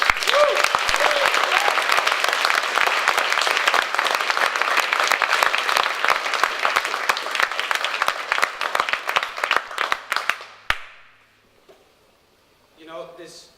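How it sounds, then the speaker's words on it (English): Conference audience applauding at the close of a three-day event, loud sustained clapping from a large room that gradually thins out and stops, followed by brief quiet. "can I get another round of applause for"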